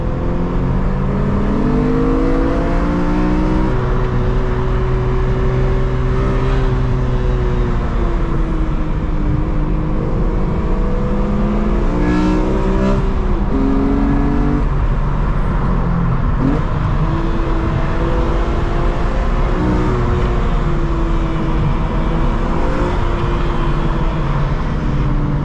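A 400 hp BMW M3 E46 engine, heard from inside the car while chasing a Nissan GT-R, drones loudly and continuously, its pitch repeatedly rising and falling through gear pulls, with no talking.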